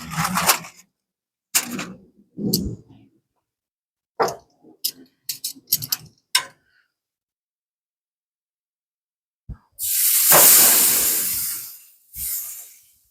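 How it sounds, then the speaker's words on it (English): A tri-tip hits a hot grill with a loud, sudden sizzle that roars for about two seconds and then flares briefly again, after scattered quieter clatters and bumps. "let's get some marks on this tri-tip"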